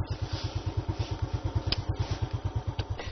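A motorcycle rides along a rough mountain road to a rubber plantation, its engine thudding in a fast, even pulse close by, with a couple of brief metallic clatters.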